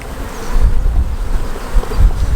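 Honey bees in a freshly smoked hive give a steady low buzz with no break, loud and close. It hums on behind faint rustling at the brood box.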